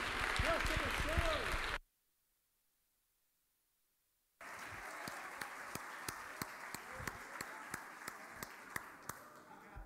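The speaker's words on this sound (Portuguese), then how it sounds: "Glória a Deus, aplauda o Senhor." A church congregation at a weekday evangelical service claps along with voices, then after a few seconds of dead silence the clapping returns as a steady, rhythmic beat of sharp, evenly spaced claps over a murmuring crowd.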